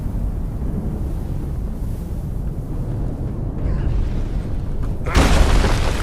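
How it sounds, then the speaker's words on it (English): A big explosion goes off nearby in the Fallout 76 video game, a sudden loud burst near the end that cuts through a steady windy rumble. "that is one big explosion that occurred near me."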